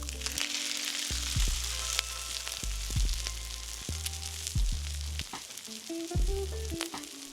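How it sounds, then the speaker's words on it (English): Pork sisig topped with Kewpie mayonnaise and a cracked raw egg sizzles loudly and steadily on a hot plate, with constant close frying hiss and occasional scrapes and clinks as it is stirred. "Then mix it all together to cook the egg all the way through while the sizzling plate is still hot"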